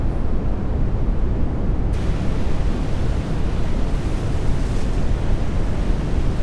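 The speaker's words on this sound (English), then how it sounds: "the wind and the rain and the waves and the current all go towards ruining your course" Wind, rain and waves in a NAUTIS ship simulator, a steady loud broadband wash of rushing noise with no pauses, continuous and unbroken throughout, without any talking.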